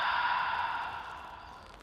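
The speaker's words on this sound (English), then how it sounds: "And breathing out." A long, deep exhale during a slow, intermediate full-body Pilates sculpt class, heard as one steady airy breath-out that fades gradually over about two seconds, close and soft with no talking.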